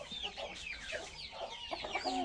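Roosters and hens in cages cluck and squawk in repeated short bursts, close by and fairly loud, with several birds calling over one another.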